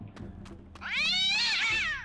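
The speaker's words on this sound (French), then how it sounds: "encore ce chat" A cat in the Story of a Gladiator game gives one long, loud, drawn-out meow that rises and falls, after a few soft clicks, with no talking.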